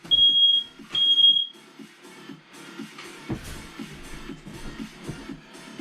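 A home smoke detector shrills in two loud, steady beeps early on while someone makes pizza, followed by kitchen shuffling and clatter with no talk.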